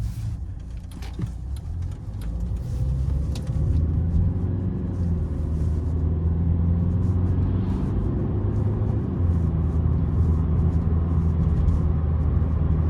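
Mercedes W211 car accelerating, a steady low engine rumble heard from inside the cabin that builds slightly and holds constant, with faint rattles.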